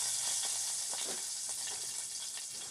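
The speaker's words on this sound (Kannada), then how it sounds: "ಇವಾಗ ಕರಿಬೇವು ಕೂಡ ಹಾಕ್ತಾಯಿದ್ದೀನಿ." Curry leaves crackling in hot oil with mustard seeds for a green tomato chutney: a steady loud sizzle with scattered pops and spits, close and continuous, no talk.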